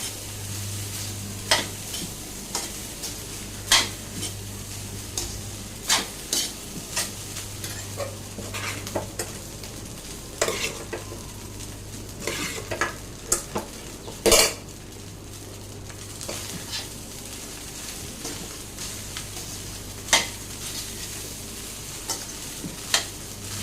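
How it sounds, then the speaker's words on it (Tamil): Rice stir-fried in oil in a pan for hotel-style fried rice: constant sizzling with frequent metallic scrapes and clanks of a spatula against the pan, close and fairly loud, with no talking. "இந்த ரைஸ் இந்த ஆயிலில் கொஞ்சம் நேரம் ஃப்ரை ஆகணும்"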